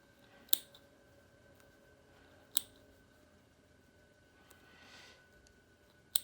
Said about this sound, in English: Actually, I use my clippers for this.